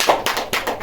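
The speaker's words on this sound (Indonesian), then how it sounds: "Tepuk tangan, Len." A few sharp hand claps ring out in a classroom, spaced in a short, uneven burst with no talking over them.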